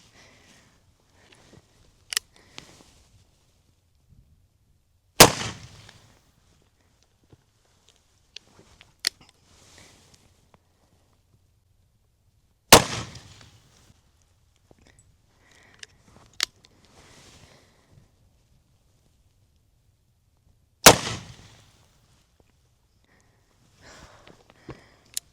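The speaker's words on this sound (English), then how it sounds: "That was 6 shots." Colt Walker black powder revolver fired at a target, three loud sharp reports spaced several seconds apart, each with a short decaying tail, plus a few faint clicks and handling noises between shots.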